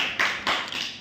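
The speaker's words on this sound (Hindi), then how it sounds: "इनके लिए भी ताली बजा दीजिए भाई आप लोग" Students in a classroom clap in a short burst of applause, a few sharp claps standing out over a steady wash of hands, close and fairly loud with no talking.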